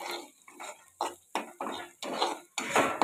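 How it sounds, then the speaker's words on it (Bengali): Raw onions being stirred and fried in a pan, with a spoon repeatedly scraping and clanking against the metal in about six short bursts, close and fairly quiet, with no one talking. "পেঁয়াজটা ভাজতে শুরু করেছি, এই যে ভালো করে ভেজে নিচ্ছি"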